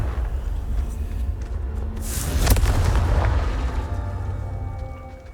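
A Confringo fire spell blasts in Hogwarts Legacy, a booming explosion with a sharp crack at its peak, swelling from a low rumble and fading into a lingering roar.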